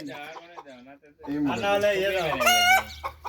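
Chickens cluck close by, then a rooster crows loudly at near range, with a voice heard among them.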